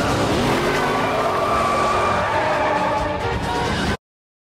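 A BMW with a ten-cylinder engine roaring continuously at high revs in a film scene, loud and close with a harsh layered drone throughout, cutting off abruptly near the end.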